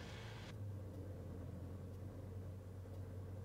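A car engine settles into a steady low idle after a brief higher-pitched rev, running alone as a constant close rumble with no talk.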